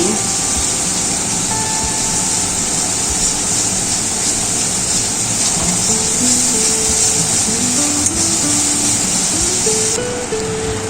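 Whole spices frying in hot mustard oil in a pan while being stirred, a steady loud hiss and crackle running throughout with faint background music.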